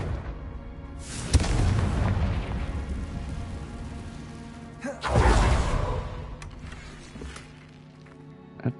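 A Confringo blasting spell in Hogwarts Legacy goes off in two loud booming explosions with crackling, whooshing tails, the second about four seconds after the first, each decaying into rumbling debris.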